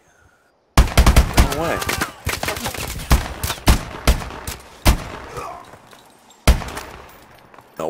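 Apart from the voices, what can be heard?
gunfire from video game Call of Duty Advanced Warfare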